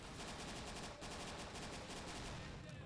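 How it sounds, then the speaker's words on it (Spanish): Rapid, continuous bursts of automatic gunfire in the video game Dino D-Day rattle without pause, dense and steady throughout. "Es un sinfín de tiros que no vea."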